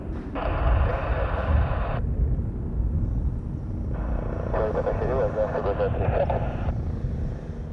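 A steady low engine and rotor rumble from a Brazilian Army helicopter landing at an airport runs throughout, with two bursts of air traffic radio voice chatter over it.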